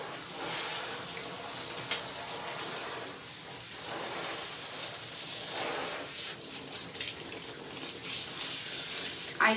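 Steady running water from a tap pours continuously while a Coton dog is rinsed during a bath, a close, full wash of sound without pause.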